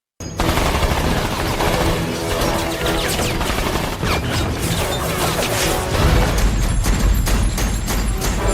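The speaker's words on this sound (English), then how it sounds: "they suddenly hear the sound of gunfire" Gunfire in a film massacre scene at a house, dense bursts of rapid automatic shots and crashes, loud and continuous, with heavier booming blasts toward the end.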